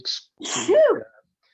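A single close, sharp human sneeze: a quick intake, then an explosive burst trailing off within about a second in a quiet room.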